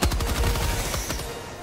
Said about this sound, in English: Ain't no way I can shoot a machine gun this angle